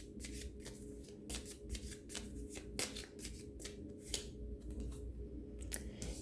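Tarot cards being shuffled by hand, a quick run of soft riffling flutters and slaps repeating in short bursts, close but quiet, with no talking.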